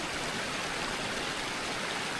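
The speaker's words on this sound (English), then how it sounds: "And we just follow that waterfall. It goes all the way down there," A mountain waterfall and stream on Coma Pedrosa in Andorra produce a steady, even rush of water that stays constant throughout, broad and moderately loud with no voices.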